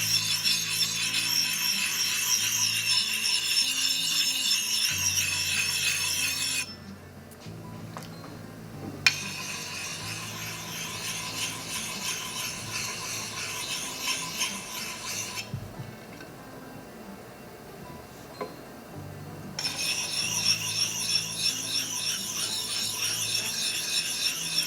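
A kitchen knife is drawn in long, steady strokes across the 400 grit side of a soaked Whiskey River Arctic Fox sharpening puck, a smooth, close scraping hiss that comes in bursts separated by brief pauses.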